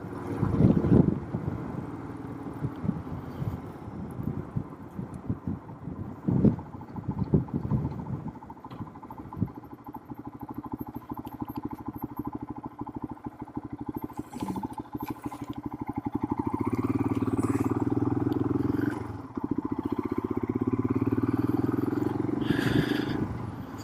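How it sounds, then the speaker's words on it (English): A Royal Enfield Himalayan motorcycle's single-cylinder engine runs with a steady, old-fashioned thump, rising to a louder, sustained drone in the latter half, with no talking over it. "What I really like about the bike is the engine sound, actually. A nice old-fashioned thump to it."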